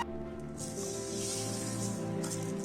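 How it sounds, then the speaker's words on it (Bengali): Two cups of sugar poured into water that is heating for sugar syrup, giving a steady close hiss and rustle that runs continuously for a few seconds with no voices. "2 কাপ চিনি আমি দিচ্ছি"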